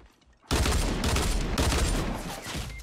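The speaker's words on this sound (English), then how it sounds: "I'm getting shot from the south." A dense burst of rapid gunfire in Fortnite Battle Royale starts abruptly and rattles on loud and continuous for a couple of seconds.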